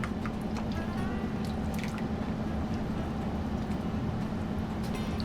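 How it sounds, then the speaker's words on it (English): Strawberries being stirred in a bowl, giving a steady wet, squishy mix of drips and soft sloshing throughout, with no talking. "Just give it a good stir."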